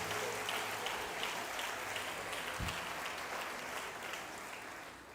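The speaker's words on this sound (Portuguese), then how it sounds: "Dê um aplauso ao Senhor Jesus por cada vida que está aqui conosco pela primeira vez" Sustained applause from a church congregation during a service, a steady dense wash of clapping that holds evenly for the whole stretch and eases slightly at the end, with no talk over it.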